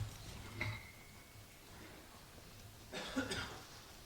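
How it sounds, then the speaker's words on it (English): Two soft coughs, quiet and close, separated by a few seconds of low background hiss. "Excuse me, got a cough."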